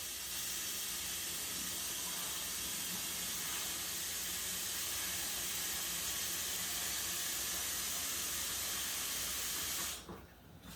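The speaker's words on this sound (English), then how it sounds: "now that ham hock is boiling where I want it" A pot with a smoked ham hock boils at a vigorous rolling boil, giving a steady close hiss and bubbling roar that holds evenly for about ten seconds before cutting off abruptly near the end.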